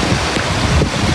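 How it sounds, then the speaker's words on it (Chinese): Strong typhoon wind sweeps across Yong'an fishing harbour in Kaohsiung, a loud, dense roar with gusty surges buffeting the microphone for about a second, with no voices. "风声大，雨点小。"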